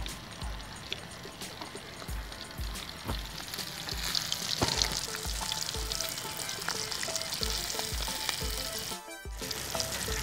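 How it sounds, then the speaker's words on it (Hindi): Fish frying in a pan for a village-style desi fish fry, a steady close crackling sizzle with bursts of spattering oil that runs the whole time, with no talking. "तो इसको हम पक तो गई है लेकिन हम थोड़ा सा और पकाएंगे ताकि ये अंदर से भी पक जाए।"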